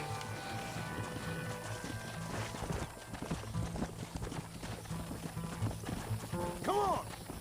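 Hooves clip-clop in a fast gallop alongside music and game ambience, with a brief whinny near the end, from a horse in Red Dead Redemption.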